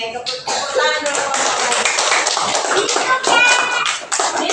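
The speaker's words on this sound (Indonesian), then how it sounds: "Oke, tepuk tangan dulu" Children in a classroom clapping their hands together, a dense, steady patter of many small claps close by, with kids' voices mixed in throughout.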